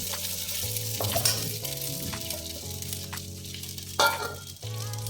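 Oil sizzles steadily in a pan as potato pieces go in with golden-brown fried chillies for sabudana khichdi. Stirring scrapes and a sharper sizzling burst near the end rise over a low, steady hum, with no talking.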